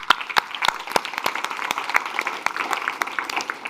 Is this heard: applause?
yes